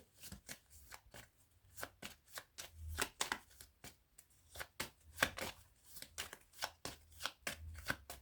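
Tarot cards are shuffled by hand in a series of quick, crisp riffling and slapping bursts, close and fairly quiet, repeating irregularly with no talking.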